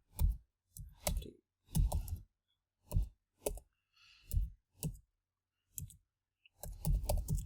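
C code being typed on a computer keyboard, short bursts of quick clicking keystrokes separated by brief pauses, close and clear.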